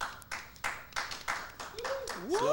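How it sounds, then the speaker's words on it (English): Seven or eight slow, evenly spaced hand claps ring out close by, then a voice starts talking over the last ones. "Slow clap."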